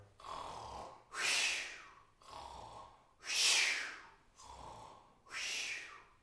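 A voice imitates a bear snoring: three slow cycles of a low rasping inhale followed by a breathy, hissing exhale, close and steady.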